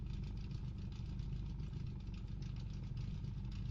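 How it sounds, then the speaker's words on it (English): Formula race cars on the Zandvoort circuit in a racing game hum with a steady low engine drone, like grid idling, continuous and even without voices. "The engines are revving up and the drivers are ready to hit the gas pedal"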